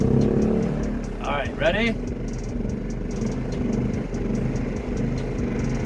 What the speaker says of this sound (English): I'm going to do the gas generator because it doesn't have that kill switch like the Jackery